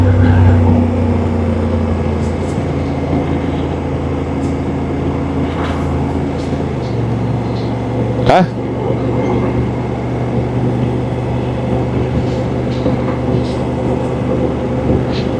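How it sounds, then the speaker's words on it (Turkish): Steady roadside traffic rumble with vehicles passing, including a loud whooshing pass near the middle, heard continuously and close. "Arabalar var artık ya. Bak gitti bunlar."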